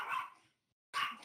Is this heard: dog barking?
yes